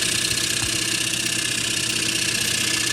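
A wood lathe spins a rotten sweetgum lid held in a Nova chuck, giving a steady, close mechanical hum with a rhythmic pulsing throughout and no speech.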